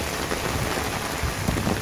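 Heavy rain pours steadily in a close, dense, unbroken hiss, with no voices over the downpour.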